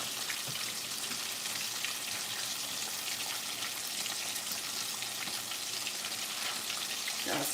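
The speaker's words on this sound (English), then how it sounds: "Once you put the fish in the hot grease, it kind of cools it down." Fish sizzles steadily in hot grease on a stovetop, a dense, even crackle with scattered pops and spits running the whole time, close and moderately loud with no voices.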